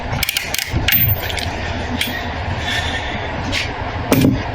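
A torque wrench clicks as it reaches its torque spec during an oil change, several sharp mechanical clicks and ratchet snaps over a steady background hum of a workshop.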